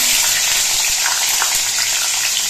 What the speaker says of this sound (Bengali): কালো জিরেটা ভাজা হয়ে যাওয়ার পর এর মধ্যে দিচ্ছি 4টে চেরা কাঁচা লঙ্কা